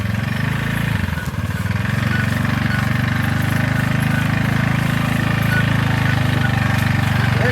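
A motorcycle engine runs steadily close by, a continuous low, throbbing drone that holds at an even level throughout with no talking.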